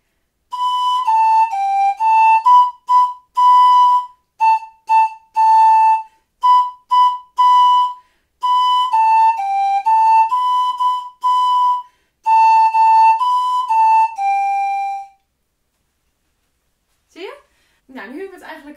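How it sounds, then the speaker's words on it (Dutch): A short melody, the 'Mary Had a Little Lamb' tune, blown across three small bottles used as a mini pan flute. Clear, breathy tones come in stepwise phrases with brief pauses, loud and close, before a faint squeak at the end. "Eigenlijk kan je dan al een mini panfluit maken met drie flesjes."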